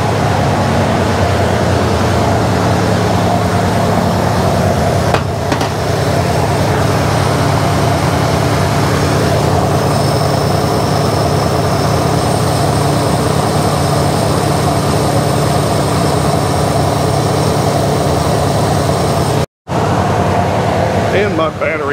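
A Jeep CJ5 engine idles just after carburetor work, giving a loud, steady, low rumble that runs evenly for about twenty seconds, with a brief dropout near the end.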